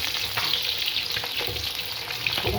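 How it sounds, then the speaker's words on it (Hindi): Sliced onions fry lightly in oil with a continuous close sizzle and crackle, broken by faint stirring scrapes and no voices. "इसी ऑयल में मैं प्याज, ये मैंने इस तरह के काटे हैं तो ये मैं हल्के से फ्राई करूँगी।"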